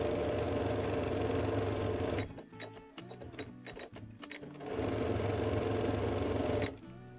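Sewing machine stitching diagonal quilting lines, a close rapid mechanical chatter in two runs separated by a pause with clicks and fabric handling.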